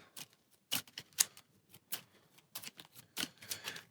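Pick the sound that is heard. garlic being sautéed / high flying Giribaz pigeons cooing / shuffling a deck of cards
shuffling a deck of cards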